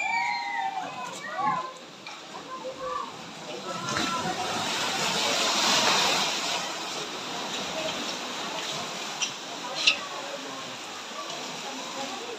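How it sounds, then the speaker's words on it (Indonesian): Ocean waves wash steadily onto the beach at Sulamadaha, Ternate, a broad continuous surf swelling and easing over about twelve seconds with no talk. "Ombak guys, ombak."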